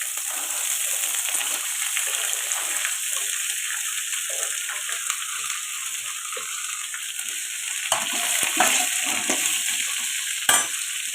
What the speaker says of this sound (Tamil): இப்போ இந்த ஸ்டேஜில் நம்ம இந்த அரிஞ்சு வச்சுருக்கிற கேரட்டும் பீன்ஸையும் கொட்டணும்